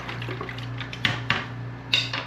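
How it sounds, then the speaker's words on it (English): Ice stirred around in a container of brine, with a few sharp clinks and knocks of ice against the vessel over a low background hum. "we want to stir that ice around"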